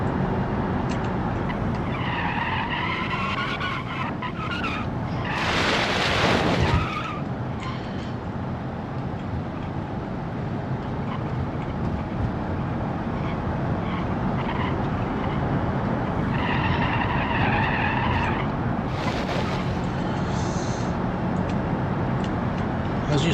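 A Corvette races in BeamNG.drive, its engine revving loudly and continuously, with repeated tire squeals and skids bursting in at intervals, all close and without talk.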